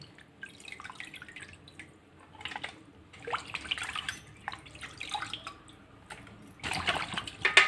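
Water splashes and drips in uneven bursts, fish being rinsed in a basin, with quiet gaps between pours.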